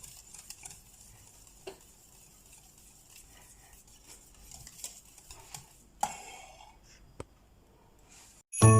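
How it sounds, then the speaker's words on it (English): A spoon stirs Danish brown sauce in a pot, scraping and clinking in irregular strokes, with light ticking sounds, quiet overall and ending in a sudden loud knock. "I will continue stirring this until it comes to a boil"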